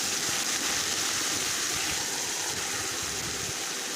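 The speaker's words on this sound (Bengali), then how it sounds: "বাটিটা ধুয়ে ভালো মতন পানিটা দিয়ে দেবো" Water is poured into a hot pan of frying spice paste made from cumin, salt, turmeric and ginger-garlic for a fish curry, producing a loud, steady rushing hiss that fills the whole moment without pause.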